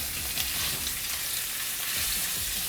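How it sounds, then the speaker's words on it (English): Kitty Mitchell grouper sears in a cast iron skillet over medium to medium-high heat, giving a continuous, close, loud sizzle with crackling oil and no talking. "I'm starting off with the medium to medium-high heat in my pan for the sear"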